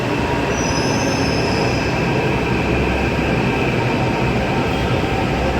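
A Delhi metro train arriving at a station rumbles loud and close, a constant roar of wheels on rails with a high metallic squeal drawn out over it.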